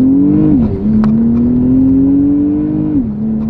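A Porsche Cayenne GTS V6 pulls away from a standstill in first gear, its engine note climbing steadily and loud from inside the cabin, with a brief dip around a shift before rising again.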